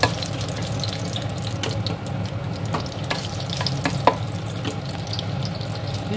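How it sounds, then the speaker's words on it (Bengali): Whole spices, cloves, cinnamon sticks, green cardamom and a couple of bay leaves, sizzle and crackle steadily in hot oil for a pulao, with occasional spoon scrapes and sharper pops rising above a dense, continuous frying hiss. "দিয়ে ভালোভাবে একটু তেলের মধ্যে নেড়ে চেড়ে নেব"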